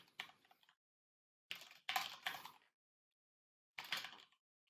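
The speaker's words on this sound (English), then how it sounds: "But if I type here," Short clusters of quiet keystrokes as code is typed on a computer keyboard, separated by silent pauses, close and soft with no talking.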